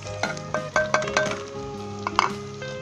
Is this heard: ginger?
yes